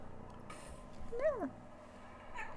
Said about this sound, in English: That was a very squeaky meow